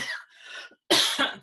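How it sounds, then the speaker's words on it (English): A hacking cough from a persistent respiratory illness picked up at the Standing Rock protest camp, two or three close, loud bursts with a short pause between them, heard alone without talk. "Sorry, I have a Standing Rock cough."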